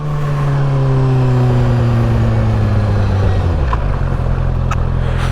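A supersport motorcycle engine at full throttle, a loud, strained whine whose pitch slides steadily downward with wind roar over several seconds, then settles into a lower drone.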